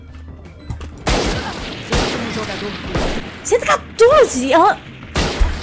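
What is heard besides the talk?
gunfire from the video game Valorant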